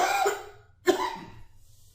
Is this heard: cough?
yes